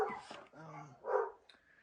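Several dogs barking at another dog walking past, a few loud, rough barks and yips in quick succession, fairly close, with no talk over them.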